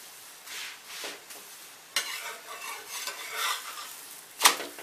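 A sesame-jaggery poli roasting on a pan and being turned repeatedly, with soft scrapes and taps of a utensil against the pan over a faint sizzle, close, ending with one sharp metallic clink.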